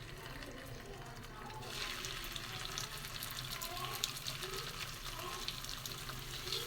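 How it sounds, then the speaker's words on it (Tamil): Fish pieces drop into hot oil in a pan for Tamil-style fish curry, and a dense sizzling frying sound swells and holds steadily up close. "மீனை போட்டு பொரிப்போம்."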